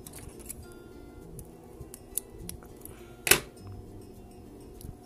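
Scissors make a single sharp snip through beading thread while finishing a pair of seed-bead earrings, a brief close click standing out against quiet room noise.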